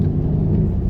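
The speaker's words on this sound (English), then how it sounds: "You can tell the exhaust is on." 2020 Mercedes GLC 63s AMG Coupe V8 exhaust, a steady deep low rumble, loud and close, with no talk over it.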